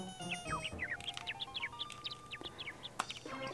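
Repeated bright chirps from a bird in The Tick video game, short tweets in a quick irregular run over a low game soundtrack, with no talking.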